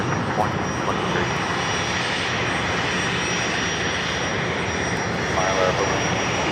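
An Embraer Praetor 500 business jet arriving at LAX from Portland gives off a continuous jet engine roar, steady and moderately loud against airport background noise.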